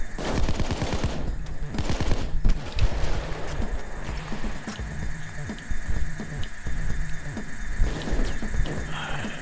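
Rapid bursts of automatic gunfire from a shootout in the video game Payday 2, dense, loud and continuous throughout, with sharp repeated shots layered over one another.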